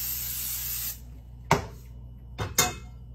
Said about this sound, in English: It's better to spray a pan with cooking spray over the sink.